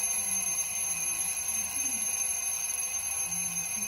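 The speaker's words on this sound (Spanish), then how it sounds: "¡Qué alarma larga!" An alarm clock rings in a music video, a long, steady high electronic tone with a repeating pattern, held loud for the whole stretch without voices.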